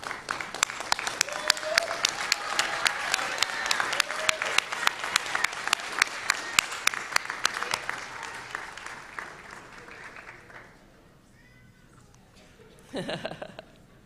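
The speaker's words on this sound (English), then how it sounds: "let's all give those folks that got you here a round of applause" A crowd at a university commencement ceremony claps loudly and steadily for several seconds, then the applause thins and fades out, with a brief burst of cheering near the end.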